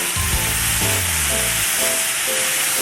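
Croquette filling stir-fried in a hot pan with salt, oyster sauce, garlic, black pepper and seasoning powder, giving a steady loud sizzle with a few scraping stirs near the start.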